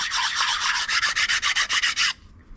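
Laser-cut wood being hand sanded in circular motions to remove burn marks: a dozen or so quick, even rasping strokes, close and fairly loud, then the rubbing stops abruptly.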